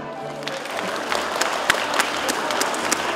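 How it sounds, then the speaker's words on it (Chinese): Applause at a community sports carnival in Nantou, a crowd clapping steadily with a dense, continuous patter throughout, some louder individual claps standing out. "我们再次给他鼓掌"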